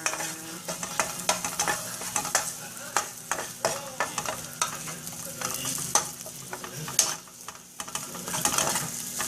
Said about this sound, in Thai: ผัดให้มันเหลืองสักแป๊บหนึ่งแล้วก็ใส่หมูเลยนะจ๊ะ